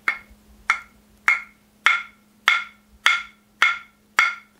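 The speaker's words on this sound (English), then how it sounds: "These clapsticks will give the sound like this." Handmade hardwood clapsticks struck together on the fingertips, eight bright, sharp wooden clicks at an even, unhurried pace, each with a short ringing decay, close and alone with no talking.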